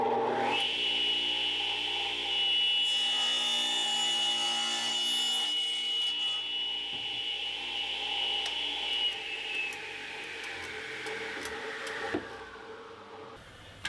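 A table saw whines up to speed and runs steadily as it rips wood pieces for an outfeed table, a loud sustained tone that drops in pitch as the blade spins down near the end.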